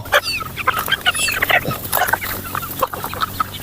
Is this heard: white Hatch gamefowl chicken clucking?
yes